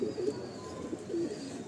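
Loft pigeons kept for sale cooing softly nearby, a few low rolling coos in short succession.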